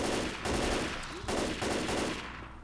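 Continuous, loud gunfire from an M4 assault rifle during a Left 4 Dead 2 zombie game session, sustained bursts with a couple of brief breaks, with no talk over it.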